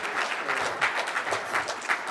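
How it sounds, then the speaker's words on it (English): Audience clapping at a tech conference lightning talk, a steady patter of many hands across the whole stretch, moderately loud with no voices over it. "This is where you clap."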